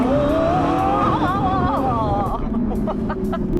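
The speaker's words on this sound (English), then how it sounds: "Let's go and drown them out with some 458 noise" Loud, close engine of a Ferrari 458 Italia revving hard, its pitch climbing and dropping through several quick surges before easing into a lower, steadier tone.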